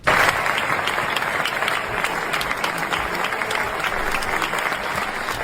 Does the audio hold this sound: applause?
yes